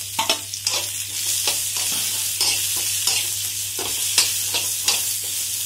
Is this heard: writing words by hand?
no